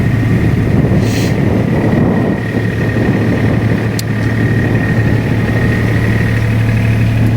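A mini excavator engine runs steadily at a constant idle, loud and close, with a continuous low diesel drone and hum throughout, while a Hercules diesel power unit is lowered off a trailer; no voices.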